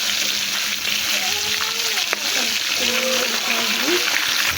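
Two kilograms of Padma river hilsa fry in oil with a steady, loud sizzle and bubbling hiss throughout, while a faint voice comes and goes underneath.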